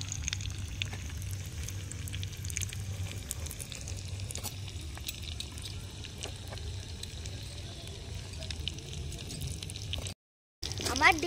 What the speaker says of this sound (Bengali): পিঠটা ভাজা হয়ে গেছে, এবার এক পিঠটা ভাজা হোক